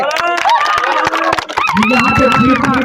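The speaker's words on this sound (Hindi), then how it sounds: "ताली" A large crowd at a village panchayat kabaddi match in Matiyari claps and cheers loudly and steadily, with shouting and whistle-like voices rising over the dense, continuous noise.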